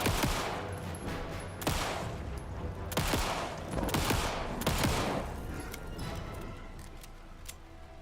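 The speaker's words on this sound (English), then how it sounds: "It's actually surprisingly difficult to only fire off one shot with this gun." Repeated gunshots from a gun in Alan Wake 2, Night Springs DLC, cracking out in an irregular run of several loud, sharp reports over a steady ambient bed.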